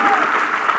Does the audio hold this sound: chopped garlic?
no